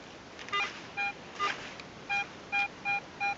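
A Garrett AT Pro metal detector sounds its target tone over soil at a WW2 camp site, hunting small threepence coins: a run of short, clear electronic beeps, some spaced and some in quick succession, with no talk.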